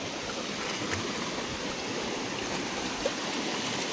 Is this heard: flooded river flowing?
yes